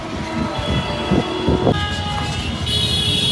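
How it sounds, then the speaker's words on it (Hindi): A train rumbles and clanks at a busy railway station amid a congested evening crowd, with a steady mechanical drone and scattered metallic knocks, no voices clear. "अब देखिए, यहाँ रेलवे स्टेशन पर भयंकर जाम लगा हुआ है।"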